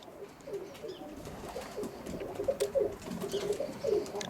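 Roller pigeons coo in a loft after a flight, a steady stream of soft, low, burbling calls overlapping one another at close range, growing slightly busier toward the end with no voices.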